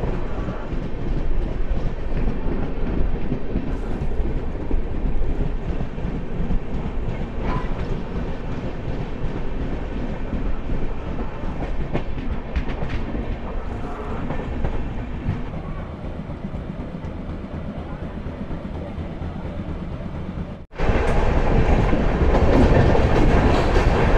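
Steady rumble and clickety-clack inside a moving coach of the Doon Express from Kolkata to Varanasi, loud and continuous with no voices, then a brief dip and louder surge near the end.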